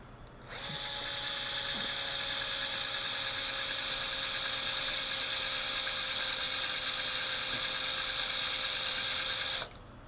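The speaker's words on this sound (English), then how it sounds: "We're going to go ahead and drill it a little bit." A steady high-pitched drill whine runs for about nine seconds while drilling a center-punched hole in a Saab engine part, loud and close, starting and stopping abruptly.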